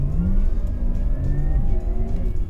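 Porsche Taycan Turbo S sliding on a slippery road with electronics off: a steady electric motor whine with rising and falling tones over continuous tyre and road rumble, loud and close throughout.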